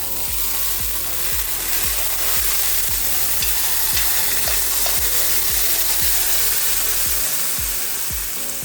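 A generous pour of oil sizzles steadily in a hot pan on medium-high heat for birria tacos, with a loud, continuous crackle broken by regular rhythmic scraping or clicking pulses, and no voices.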